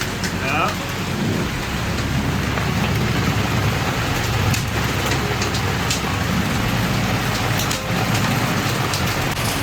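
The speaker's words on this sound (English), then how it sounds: "There's hail. A bunch of hail bouncing in," Hail and heavy rain pelt a sailboat at sea during a 40-knot storm, a dense continuous hiss and patter with low rumbling underneath, steady and loud throughout.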